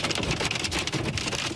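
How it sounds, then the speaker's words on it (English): A torrential rain storm pours down in a steady, dense roar of water hitting surfaces, loud and continuous from start to finish, with no voices. "April showers came early for millions of Americans, with torrential rains, gusty winds, and large hail battering parts of the country"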